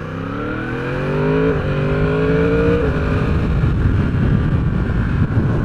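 A Yamaha R1 sport motorcycle pulls away at partial throttle, its engine note climbing through a couple of quick gear changes before settling into a loud, steady road roar with heavy wind buffeting on the microphone.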